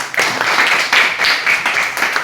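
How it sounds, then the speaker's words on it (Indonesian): A class of students claps together in a classroom, producing loud, close, rapid clapping with slightly uneven bursts that carries on for a couple of seconds. "Tepuk tangan dulu."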